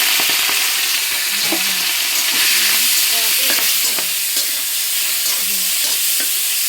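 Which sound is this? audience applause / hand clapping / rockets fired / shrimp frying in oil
shrimp frying in oil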